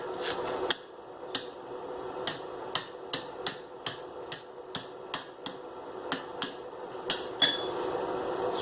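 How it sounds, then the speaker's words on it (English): A blacksmith's hammer striking hot iron to bend it around a fork pin: a dozen or so sharp metallic blows in a fairly regular rhythm, close and clear, ending with a ringing strike. "hit with my hammer blow to cause it to bend around the shape of that pin on the fork"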